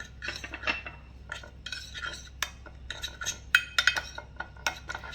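A metal spoon scrapes and clinks against a bowl while oil is worked into pasta ingredients, giving irregular close taps and scrapes at a quiet level, with no talking.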